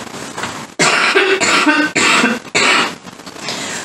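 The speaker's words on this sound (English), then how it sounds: "Outside of hubby's smoker's cough, that's the only sign he shows." A man's harsh smoker's cough, a run of several loud, rough hacking bursts close to the listener, trailing off into lighter throat clearing.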